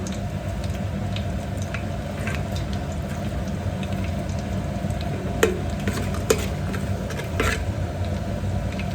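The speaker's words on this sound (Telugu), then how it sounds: "సో లైట్గా కొంచెం వేగాలండి స్పైసెస్ కూడా." Whole spices frying lightly in a pan as the base for home-made egg pulao, giving a steady close sizzle with a few soft stirring scrapes and small crackles throughout.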